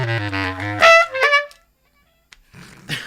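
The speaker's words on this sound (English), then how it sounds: "It's a bass clarinet." A bass clarinet plays a brief low, reedy sustained note, then jumps to a couple of quick higher notes before cutting off into near silence, followed by faint noise at the end.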